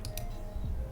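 A computer mouse clicked on a capture button, two quick sharp clicks close together right at the start, then only quiet room hum.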